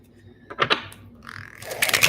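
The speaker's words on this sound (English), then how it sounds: "So I can take these cards here and I can shuffle them." Tarot cards being shuffled by hand during a reading, giving a few soft riffling bursts and a longer rustling, flicking run of card noise close by, with no talking.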